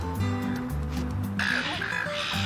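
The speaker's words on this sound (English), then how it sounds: "Ah, look, it's a baby seagull." Gulls at a nesting colony on Cockatoo Island in Sydney call in harsh, repeated squawks over steady outdoor background noise, growing louder partway through.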